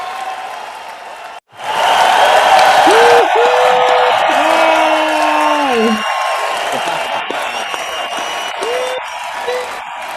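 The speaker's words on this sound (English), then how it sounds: "can we give her a round of applause?" Audience applauds a scholarship winner at a session, loud sustained clapping and cheering that starts suddenly and carries on for several seconds, with a voice calling out over the crowd.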